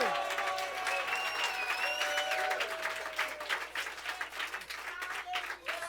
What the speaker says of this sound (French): Acclame très fort notre Dieu.